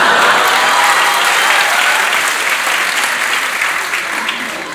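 A television studio audience claps loudly and steadily for several seconds, the applause fading slightly toward the end.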